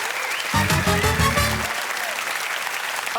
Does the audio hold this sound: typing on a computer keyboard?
no